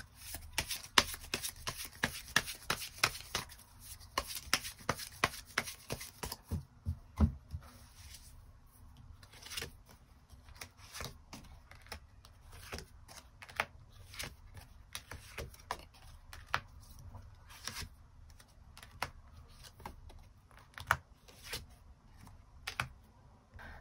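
Tarot cards shuffled in rapid riffling bursts for several seconds, followed by a long run of scattered soft slaps and flicks as cards are drawn and laid down, close and fairly quiet with no talk.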